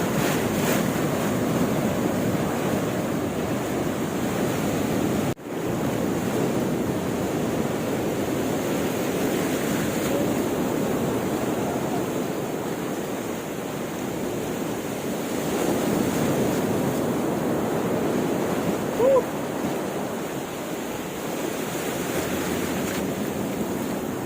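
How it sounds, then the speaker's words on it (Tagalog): Loud, high ocean surf at Tumok Beach in Agno, Pangasinan, a steady roar of crashing waves with strong wind buffeting the microphone, continuous and close throughout with one brief dropout. "Grabe yung alon guys, ang taas oh."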